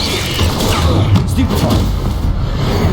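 Stupefy and Incendio spell blasts from the video game Hogwarts Legacy land as a quick run of loud, close booms and thuds, with crackling impacts layered over a rumbling low end.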